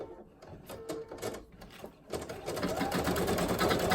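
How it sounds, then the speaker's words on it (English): An embroidery machine stitching small dots onto a design, starting with scattered clicks and thumps, then settling into a fast, steady, close mechanical chatter of needle strokes. "I'm going to go ahead and just hit start stop, because this is going to sew the little dots on his back"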